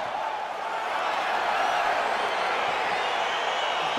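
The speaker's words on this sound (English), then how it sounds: "Crowd getting excited as this fight gets underway" A crowd roars steadily at a UFC fight in the video game EA Sports UFC 4, a dense, sustained cheering wash without breaks.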